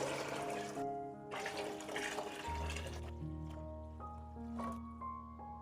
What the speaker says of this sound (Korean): 고추기름이 잘 나왔다 싶으면 아까 끓인 채수를 부어주세요.